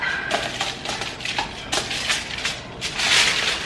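A bacon-wrapped, cheese-stuffed meatloaf being rolled up in aluminum foil gives loud, close crinkling and crushing bursts that come in irregular clusters, building to a denser rustle near the end.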